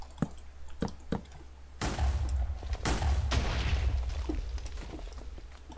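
Gunfire rings out in the MCC Island video game, a few isolated sharp shots followed by a dense, loud barrage of rapid shooting and booming impacts that gradually tapers off.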